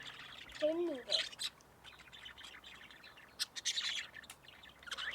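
Lovebirds, including a newly hatched one with a blue tail, chirp and squawk in short bursts close by, with people talking quietly underneath.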